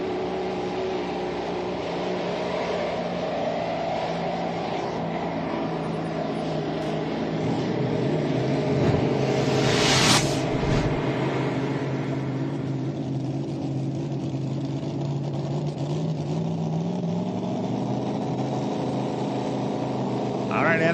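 A mini rod pulling tractor engine roars loudly at a night tractor pull at 300 Raceway in Farley, Iowa, sustained and near, with a brief sharp surge in the middle and an announcer talking over it.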